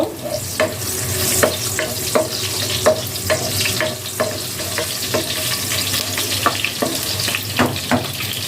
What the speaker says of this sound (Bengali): তারপর দিয়ে দিলাম পেঁয়াজ কুচি। পেঁয়াজ ভালো করে বাদামি কালার করে নেব।